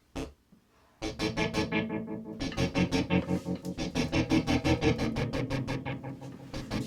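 A synth bass line through a Tubemeister Deluxe TM20H amp's distortion and an analog delay pulses in a steady rhythm of repeated notes, gritty and thick, with echoing repeats blurring the notes together.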